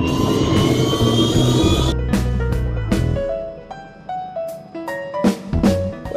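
A Robinson R66 helicopter turbine starts up with a loud, close, rising jet-like whine and roar, followed by sharp clicks and knocks as the starter disengages and the tone settles.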